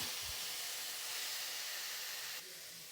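Chopped tomatoes sautéing in a pan for a Thanjavur drumstick kulambu, a steady broad hiss of steam and sizzle throughout, easing slightly near the end, with no talk.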